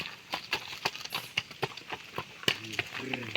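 Hooves of a mare and her foal clopping in an uneven rhythm nearby, with someone talking over them and a faint snort near the end.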